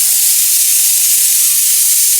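Spices for rasam crackle and sizzle in hot oil as they are tempered, a dense, close frying hiss that stays steady and loud with no voices.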